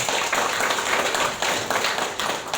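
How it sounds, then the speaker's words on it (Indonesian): Clapping from an audience at a community gathering in Kerinci, Jambi, moderately loud and steady for a couple of seconds with uneven individual claps. "Tepuk tangan untuk Jambi."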